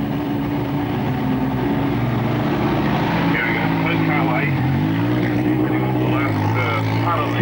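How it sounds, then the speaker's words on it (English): Peugeot rally car in the 1985 Rally New Zealand, its engine droning steadily and close as it eases off a ramp onto dark Rotorua streets, pitch rising and falling with throttle while a voice talks over it. "he eases the Peugeot off the ramp and through the dark Rotorua streets"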